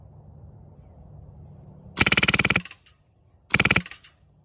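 Two rapid bursts of shots from a Polarstar airsoft gun tuned for quiet, stealthy shooting, heard close to the barrel, each burst a quick rattling string of sharp cracks separated by a short pause over faint background hum.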